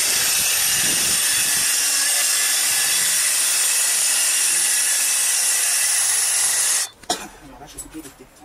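Track saw running along a rail through solid ash, a steady loud whining roar for about seven seconds that cuts off abruptly, followed by faint clatter.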